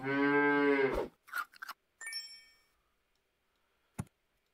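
A cartoonish cow moo from the mobile strategy game Super Auto Pets, one long harmonic lowing call about a second long, followed by brief game chimes, a bright ding and a short click near the end.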